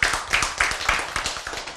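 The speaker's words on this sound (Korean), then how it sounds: "자, 박수 쳐요." A church audience claps during a sermon, a short burst of roughly rhythmic hand claps, close and fairly loud, with no speech over it.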